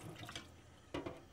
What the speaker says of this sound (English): Under running water, rinse the product and get any large debris off of it.